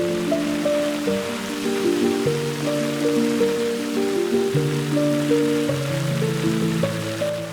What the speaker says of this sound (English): And then the rain came back.